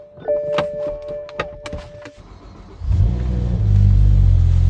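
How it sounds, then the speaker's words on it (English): Clicks and a short whirring tone, then a BMW M5 engine cranks from cold and catches, settling into a loud, steady low rumble of idling. "Cold start. Sounds mint. The idle is no longer hunting."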